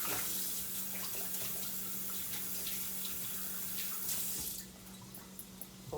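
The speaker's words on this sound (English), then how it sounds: "Rinse my hands real fast so I can take those out." Tap water runs steadily into a kitchen sink while hands are rinsed mid-way through cooking salmon croquettes, a close, continuous splashing rush that drops off sharply near the end as the flow stops.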